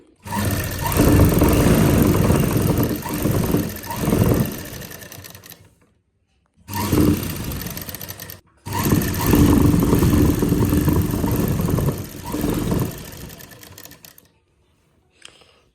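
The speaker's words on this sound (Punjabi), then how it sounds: "ਆਪਾਂ ਨਾਲ ਨਾਲ ਇਹਦੇ ਸਲਾਈ ਲਗਾਉਂਦੇ ਜਾਣਾ" Sewing machine stitching a finishing strip onto the hem of a shirt, running in long steady bursts with brief pauses between, close and loud with no talk.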